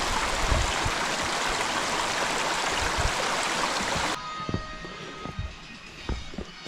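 Rushing water of a mountain stream in the Carpathians, near Hoverla, pours loudly for several seconds, then drops to a quieter flow with scattered thumps and knocks nearby.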